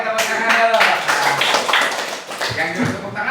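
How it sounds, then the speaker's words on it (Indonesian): A group of students in a lesson claps their hands together in a brief burst of applause, mixed with voices talking at the same time. "Oke, tepuk tangan dulu."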